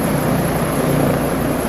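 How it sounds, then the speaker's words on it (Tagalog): A helicopter flies over a ship during an exercise, a loud, steady rotor and engine roar that fills the whole stretch with no pause. "Ito na yung helicopter."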